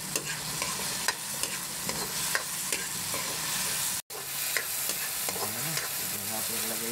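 Tomatoes and Bicol Express chili for bagoong cook in a pan, giving a steady close sizzle with repeated stirring scrapes and a brief gap of silence partway through.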